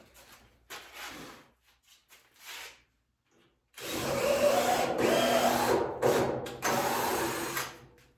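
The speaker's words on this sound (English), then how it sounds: "Now, I just run a tap through it." A tap is run through a hole to cut threads in a home garage submarine build: a few short faint grinding bursts come first, then after a pause a louder, sustained rasping churn with brief breaks, close by and without talk.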